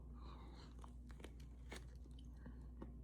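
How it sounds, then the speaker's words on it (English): Someone bites and chews a piece of chipa argola, a ring-shaped bread, close to the mic, with several soft crunching bites and mouth noises over a steady low hum, and no talk. "A bit tough to chew and it's a little bit bland."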